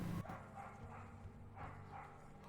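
A faint dog barks repeatedly in the far background, a few scattered woofs set against low ambient room noise during a tabletop role-playing session.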